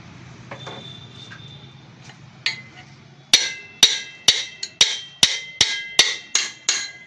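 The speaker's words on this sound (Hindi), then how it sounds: "हल्का हल्का इसे चोट दे देंगे ताकि अपना जगह पर पूरा तरह से सेंटर में आए" The rear axle of a John Deere tractor is tapped lightly into place: after a few faint knocks, about ten sharp, close metallic hammer taps ring out in an even, quick rhythm.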